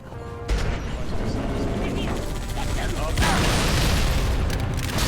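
A sticky grenade explodes in Halo 3 with a sudden heavy boom, followed by a second rumbling blast a few seconds later, both loud and full-bodied amid ongoing game noise.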